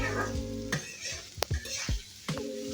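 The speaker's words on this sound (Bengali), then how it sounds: "তো এরপর আমি রসুনের সাথে ভালোভাবে চিচিঙ্গাটাকে একটু মিক্সড করে নিচ্ছি" Snake gourd and garlic are stirred in a hot frying pan, a continuous sizzle broken by several distinct scraping strokes of a spatula against the pan.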